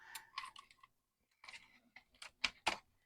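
Keycaps pried off a vintage Commodore computer keyboard during restoration, a series of short plastic clicks and snaps in two bursts separated by a brief pause, close and fairly quiet with no talking.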